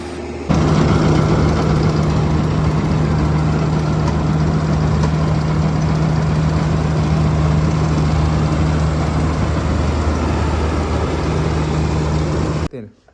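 A tractor engine idles steadily at close range, a constant low rumble with a droning hum that cuts off abruptly at the end.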